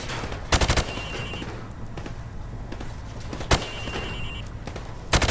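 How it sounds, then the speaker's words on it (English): Rifle fired from the hip on a training range in Call of Duty Modern Warfare Remastered: sharp close gunshots in short bursts, one near the start, a single shot midway and another at the end, over quiet ambient hum. "I wanna see you fire from the hip."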